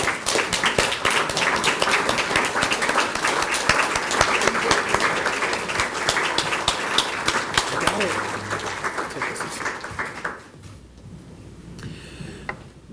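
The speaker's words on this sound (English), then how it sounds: "So again, a round of applause for our graduating seniors." Audience applause for graduating seniors at a scholarship reception, dense steady clapping sustained for about ten seconds at close range, then fading abruptly into quieter room tone with faint talk.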